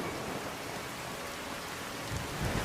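Steady rain falls in the Skyrim video game, a dense hiss of drops with a low thundery rumble swelling near the end, heard alone without voices.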